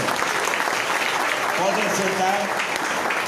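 Church congregation applauding during a sending service, a dense burst of clapping with a voice speaking over it partway through.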